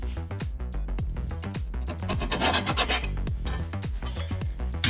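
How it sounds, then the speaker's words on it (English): A metal file rasps back and forth over a bead of weld on a plate for a custom water box, steady rhythmic scraping strokes, close and moderately loud, with no talking. "And then I'm going to file down this bead of weld so that it doesn't hold the plate up."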